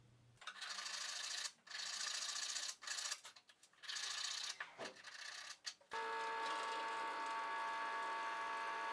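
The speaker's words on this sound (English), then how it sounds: "This is just a popsicle stick with sandpaper and double-sided tape." Sandpaper taped to a popsicle stick rubs back and forth over wood, a close, steady rasping scrape in irregular strokes with brief pauses, giving way to a denser continuous abrasive sound.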